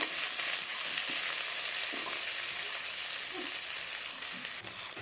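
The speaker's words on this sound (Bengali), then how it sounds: "পেঁয়াজগুলো হালকা লাল করে ভেজে নেব" Chopped onions with black cumin frying in oil until lightly browned, a dense, even sizzle heard close up, with a few soft stirring scrapes and crackles and no voices.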